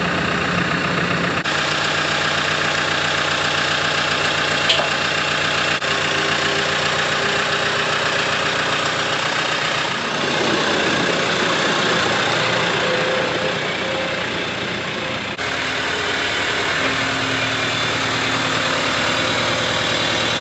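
A tractor engine idling nearby, a steady mid-pitched rumble with a faint knocking pulse that holds at an even level throughout, with no talk over it.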